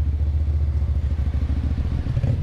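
A Keeway V250FI Geronimo motorcycle engine runs while riding, a steady low mid-frequency hum with faint clatter and wind rumble, loud and close throughout.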